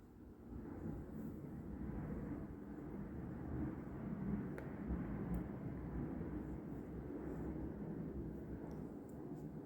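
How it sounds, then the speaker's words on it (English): A low, continuous roar of an airplane passing overhead, distant and steady, with no talking. "I have so many airplanes that go over the house continuously"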